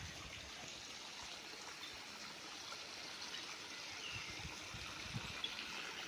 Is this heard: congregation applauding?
no